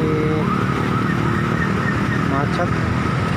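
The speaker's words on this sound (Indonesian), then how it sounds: "kendaraan sangat ramai sekali." Heavy jammed traffic of cars and motorcycles on a Jakarta street heading toward Senen, a steady dense engine roar with passing motorbike whines, heard close and continuous.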